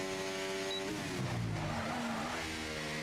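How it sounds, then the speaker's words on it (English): Open-wheel Formula 1 car in the F1 24 racing game at the Bahrain circuit, tires screeching under a brake lockup into a corner over a steady engine whine, loud and close for a few seconds. "A little lockup as well. You can hear the tires screeching."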